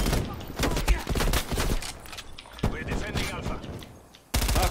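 Rapid bursts of automatic gunfire and single shots in Call of Duty Cold War, dense crackling volleys coming back in waves, with a player talking excitedly over them.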